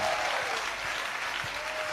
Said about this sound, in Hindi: अच्छी तालियां बजाओ।